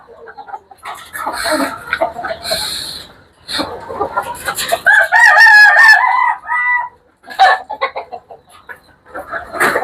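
Farm chickens cluck and squawk loudly up close, with a rooster crowing partway through, calls coming in bursts separated by short quiet gaps.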